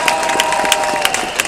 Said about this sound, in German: Einmal ganz großen Applaus für euch alle nochmal.